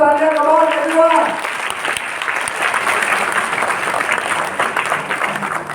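Loud, sustained applause from an audience honouring the BMCMs, a group that includes car taxi drivers, rising after a brief voice at the start and holding steady as a dense wash of clapping to the end.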